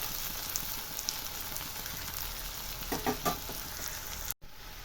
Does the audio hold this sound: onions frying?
yes